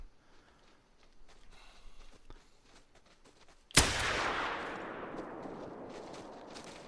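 A single sharp .243 rifle shot in a deer-hunting video game, loud and sudden after a quiet stretch, followed by a long rolling echo that slowly fades.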